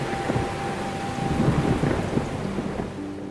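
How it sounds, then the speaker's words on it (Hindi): Thunder rumbles through heavy rain, a deep continuous roll over a steady wash of falling rain, fairly loud and close, with no voices. "अचानक आसमान में जोरदार गरज हुई।"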